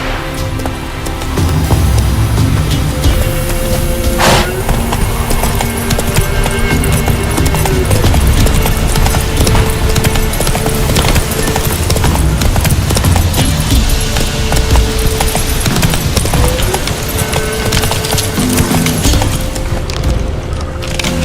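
Roach the horse gallops in The Witcher 3: Wild Hunt, with a steady, rapid clip-clop of hooves held close and loud for the whole stretch, laid over a continuous game music backdrop.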